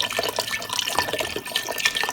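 Vegetable broth pours into an Instant Pot over cooked onion and garlic, a steady close splashing trickle of liquid that runs the whole moment with no talking.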